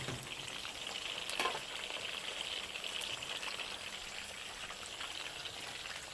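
Pieces of chicken for Malaysian ayam masak kicap sizzle and crackle steadily in hot oil, a close, even frying hiss with a few sharper pops.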